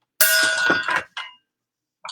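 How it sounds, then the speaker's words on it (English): A metal gong struck once with a gold Sharpie marker rings out loud and bright, with a clanging attack and sustained metallic tones that fade within about a second. Two brief, fainter sounds follow. "What do I got to bang a gong with this time? How about a gold Sharpie?"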